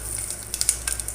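Panch phoron seeds and dried red chilies crackle and sizzle in hot oil in a saucepan, a short loud burst of popping and spitting.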